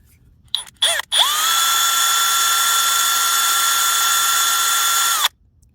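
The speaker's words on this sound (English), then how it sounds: "so now I'm going to take my drill" A power drill bores a pilot hole into a broken screw on a Suzuki LT125. A couple of brief trigger blips rise and fall in pitch, then the motor whines loud and steady for about four seconds before cutting off.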